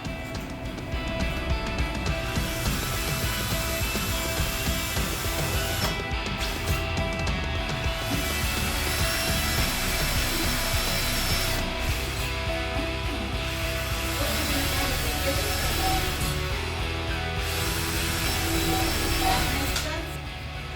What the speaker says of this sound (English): So then we just drill these in,